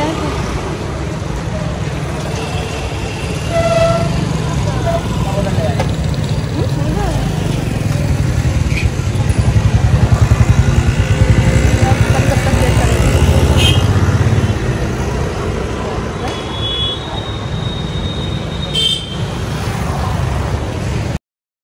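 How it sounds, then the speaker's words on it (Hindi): Auto rickshaw engines and busy street traffic at a roadside rickshaw stand in an Indian market area, a steady loud engine drone with passing vehicles that swells in the middle, voices faintly underneath. "यहाँ ऑटो की आवाज़ इतनी बहुत ज़्यादा आ रही थी"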